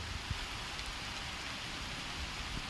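Heavy rain roars in a dense, constant hiss, drops drumming hard on surfaces close at hand, with no talking.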